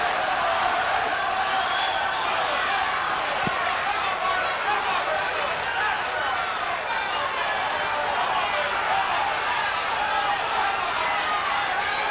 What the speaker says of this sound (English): Crowd is chanting Marlon, Marlon